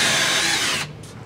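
A power drill bores through old timber steps during a stair tread repair, a loud, close, high-pitched whine that runs steadily for most of a second, then cuts off abruptly into quiet room noise.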